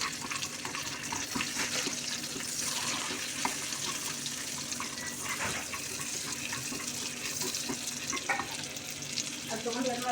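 Cashews fry in melted butter in a pan, giving a continuous soft sizzle and crackle with occasional stirring scrapes, fairly close and without talk.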